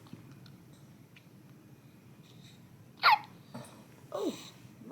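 A newborn baby girl hiccups, two small squeaky hiccups a second apart with soft breathing noise, close and quiet in a calm room.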